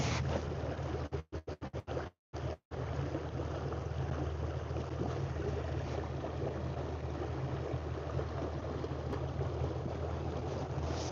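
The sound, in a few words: fishing boat motor cruising back to the boat ramp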